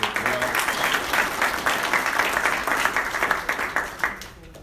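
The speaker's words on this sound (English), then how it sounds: "Give them a round of applause as well." Sustained audience applause from a history club gathering, dense steady clapping from many hands throughout, tapering off in the final half second.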